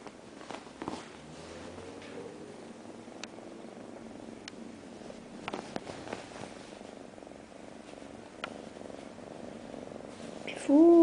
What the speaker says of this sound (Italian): Fusa.